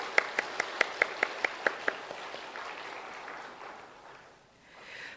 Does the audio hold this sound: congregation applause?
yes